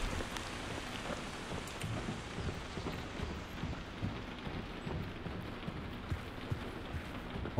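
Rain pours in the horror video game Daymare 1998, a dense, even wash of falling drops with a low rumble underneath, no voices.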